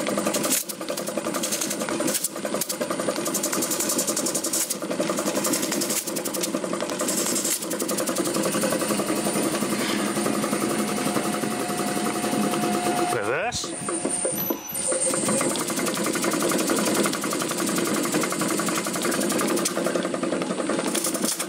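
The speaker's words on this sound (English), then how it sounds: "I won't be too hard on that compressor. She's a bit old." An old air compressor motor driven by a VFD runs with a steady, loud mechanical hum and rattle throughout, shifting pitch briefly midway before settling back into its drone.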